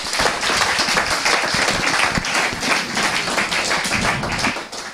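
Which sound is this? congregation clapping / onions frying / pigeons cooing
congregation clapping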